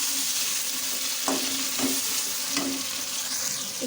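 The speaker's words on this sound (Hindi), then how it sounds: "इसके अंदर लहसुन अदरक का जो पेस्ट है वो ऐड कर देंगे। इसको भी हम फ्राई करेंगे साथ साथ।" Garlic ginger paste fries for chicken biryani in a pan, a steady close sizzle with a few stirring scrapes at intervals, no voices over it.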